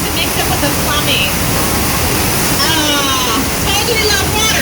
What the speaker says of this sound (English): Oh, no, you guys, the flash flood!